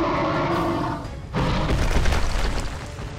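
Rhino boss in the game Metro Last Light charging and smashing a barricade: after a short lull, a heavy booming crash hits, followed by a rumbling burst of debris and impact noise.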